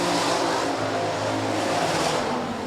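Hobby Stock race cars circling a speedway track at night, a dense continuous roar of several engines heard from a distance, holding steady with slight swells and no clear talking.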